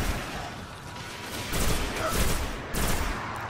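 Gunfire from weapons in the video game Destiny, with rapid bursts of shots crackling over a background din, growing louder in short volleys toward the end.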